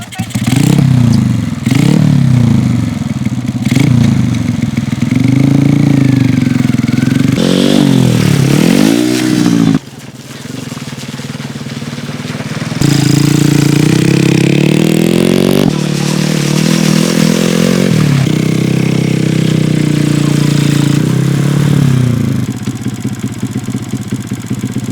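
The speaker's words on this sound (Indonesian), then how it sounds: "Ini motor Rio" A motorcycle rides along a forest river in a rural home village, its mid-pitched engine loud and close, rising and falling through throttle changes with rattles and scrapes, a voice speaking briefly.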